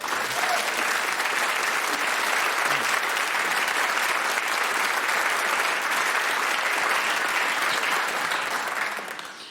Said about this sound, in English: a prehistoric roar of applause